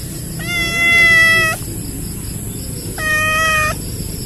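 Two loud, close cat meows, the first long and drawn out and the second shorter after a pause, with no talking.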